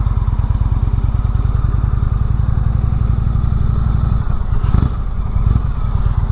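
A 2016 Indian Springfield motorcycle on the move, its V-twin engine and exhaust giving a loud, close, steady pulsing rumble that holds throughout with a brief surge near the end.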